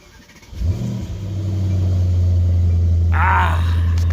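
A Mercedes car engine cranks and fires up, then settles into a deep, steady idle rumble up close, with a brief higher whine near the end.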